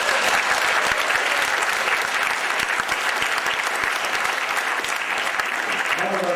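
Dense, loud audience applause fills the room without a break, a continuous wash of many hands clapping with a few sharper individual claps standing out.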